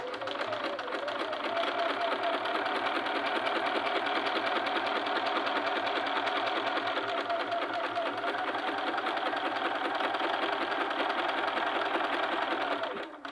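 A domestic sewing machine stitches a sleeve cap on a long-sleeve garment, running in a steady continuous whir for the full length, with someone talking over the motor.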